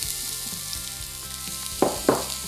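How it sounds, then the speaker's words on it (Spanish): Onion and garlic frying in a hot pan give a soft, steady sizzle, with two sharp clinks of utensils against the pan near the end. "Ahora en nuestra otra sartén esperamos que caliente y vamos a agregar nuestra cebolla"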